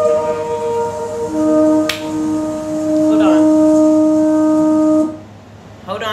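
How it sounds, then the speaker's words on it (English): Trumpets sound a victory fanfare of loud, sustained brass tones held for about five seconds, with a sharp click near the start, then cut off to a quieter tail. "You guys hear the trumpets roar and hear the trumpets."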